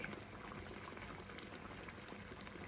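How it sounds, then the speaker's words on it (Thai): Coconut milk curry broth boils in a pot, a steady, close bubbling and gurgling that runs continuously at moderate loudness. "น้ำแกงเดือดแล้วก็ปรุงรสด้วย"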